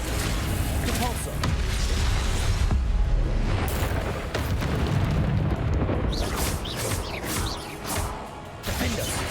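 Repulso spell cast in a Harry Potter video game, a loud sustained blast with crashing, booming bursts and a voice over it.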